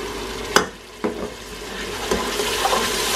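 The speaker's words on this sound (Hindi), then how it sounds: "यानी अब हम डाल देंगे टमाटर और हरी मिर्च" Tomatoes and green chillies go into a hot pan for Punjabi sarson ka saag, with a loud close splash and clatter, then a steady sizzle broken by stirring scrapes, no voices.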